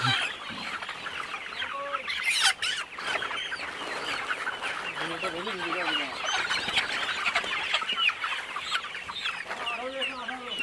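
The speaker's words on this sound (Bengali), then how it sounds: "মুরগি ধরা চলতেছে" Many broiler chickens cluck and squawk continuously in a crowded, busy flock of about 4000 being caught for sale, with a few voices murmuring underneath.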